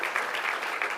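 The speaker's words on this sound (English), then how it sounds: "stand up and take a round of applause" Brief applause from the audience at the Cathedral City State of the City business awards and expo, a steady patter of many hands clapping throughout.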